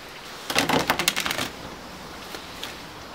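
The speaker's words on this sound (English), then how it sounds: "shuffle the cards" A quick burst of crisp, rapid riffling clicks lasting about a second, like cards being shuffled close by, then near quiet.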